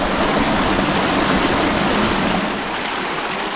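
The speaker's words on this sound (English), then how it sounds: "The water flowing down along the limestone rocks" A small stream pours over limestone rocks into the Suwannee River, heard close and loud as an even rushing gurgle that eases slightly toward the end, with no talking.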